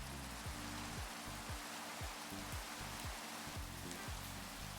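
Steady, dense hiss of rain falling in Minecraft, a continuous even wash of sound with no talk, over a repeating low rhythmic pattern underneath.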